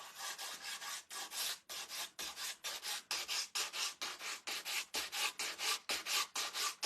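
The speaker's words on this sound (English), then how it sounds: "Even if you want to just rub harder in one spot and take off like a corner of one of your transfers." Rhythmic rasping rubs of an abrasive across transfers on a wooden cutting board, distressing them for an aged look; steady back-and-forth strokes, close and continuous, with no talking.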